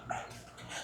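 A puppy gives a short, faint yip-like bark, a single quick burst under light background noise.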